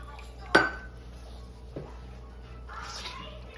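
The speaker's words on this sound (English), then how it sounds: "Keep stirring it till you smooth it out." Creamy pepper gravy made with heavy cream, stirred in a pan with a utensil: a sharp metallic clink against the pan, then a softer knock and faint scraping.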